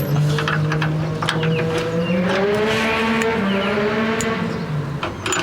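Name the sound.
off-road side-by-side vehicle driving by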